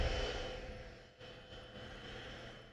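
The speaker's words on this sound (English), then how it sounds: "that was the Musco plane coming in" A small plane flying in to land, its steady engine drone filling the whole stretch at moderate loudness, with no voices over it.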